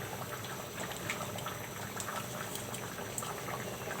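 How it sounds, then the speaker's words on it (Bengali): A pot of vegetable khichuri boils at a steady roll, giving a continuous close bubbling and popping. The sound holds evenly throughout, quiet but clear, with no voices over it. "বলক উঠে গেছে"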